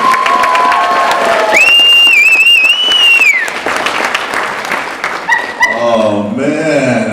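Applause and cheering from an audience at a college indigenous pageant, loud and dense, with whoops and high shouts rising over the clapping before it thins out and a voice begins speaking.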